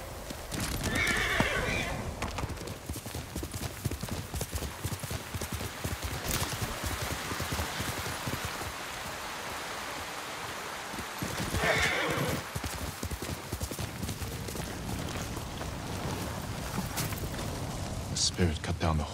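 Horses neigh and whinny amid clopping hooves in a feudal Japanese riverside camp in Ghost of Tsushima, with steady background ambience and a soft patter like rain throughout.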